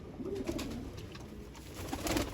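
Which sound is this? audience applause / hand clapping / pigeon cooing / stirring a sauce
pigeon cooing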